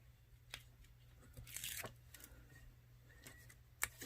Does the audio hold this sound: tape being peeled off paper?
yes